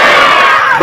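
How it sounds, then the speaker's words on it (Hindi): A village crowd at a rural development inauguration ceremony shouts a patriotic slogan in unison, a single brief, loud, massed roar of voices up close. "समस्त लोगों से निवेदन है कि जोरदार जयकारा लगाएंगे।"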